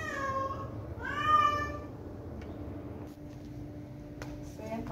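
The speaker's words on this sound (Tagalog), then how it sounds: "Ayan, nag-iingay ang ating mga alaga." Pet cats meowing in a home, several drawn-out rising calls close by in the first two seconds, then quieter household noise with a few faint clicks.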